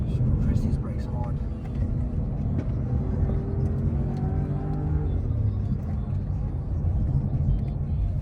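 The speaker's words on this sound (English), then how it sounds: "this Mokka is quite dynamic and it's actually a lot of fun to drive" An Opel Mokka driven hard on a race track, its engine rumbling and rising in pitch through the gears, steady and close, with someone talking over it throughout.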